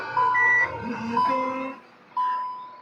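A Hyundai i20 Asta's reverse camera system sounds a few long, clear electronic beeps separated by short gaps, close and fairly loud, with a voice talking faintly underneath.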